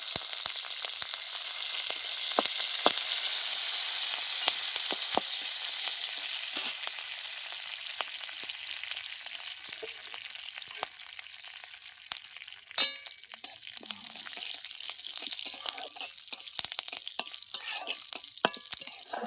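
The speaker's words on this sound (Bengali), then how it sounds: "দশ বারোটা মতো কারি পাতা দিয়ে দিই" Curry leaves and black mustard seeds sizzling in hot white oil, a bright crackling hiss with scattered pops and spatters, loudest at first, then thinning into sparser crackles and sharp clicks.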